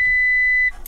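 A motorhome control panel buzzer gives one steady, loud electronic beep that holds for about two thirds of a second and then cuts off abruptly.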